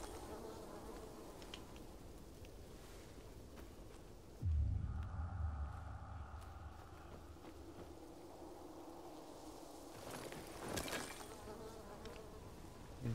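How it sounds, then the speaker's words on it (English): Bees swarm around a bee's nest with a steady, close insect drone that swells loudly around the midpoint and then holds at a lower, continuous buzz. "Another bee's nest."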